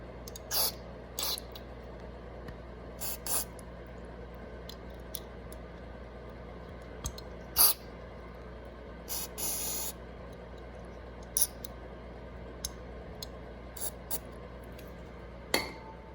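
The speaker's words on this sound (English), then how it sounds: "I'm gonna go ahead and squirt some of this carb cleaner all up in there too." Carburetor cleaner sprayed into a Yamaha TW200 carburetor: a series of short, sharp hissing bursts, near and fairly quiet, spaced irregularly over a low steady background hum.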